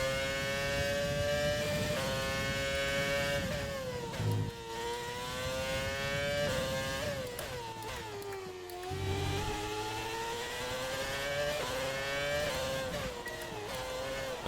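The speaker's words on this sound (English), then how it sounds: "Oh, the V10 engine. It sounds beautiful." A V10 Formula 1 car engine in the F1 2020 racing game screams at high revs, its pitch climbing and dropping through repeated gear changes and braking, a continuous and fairly even engine whine with no talk.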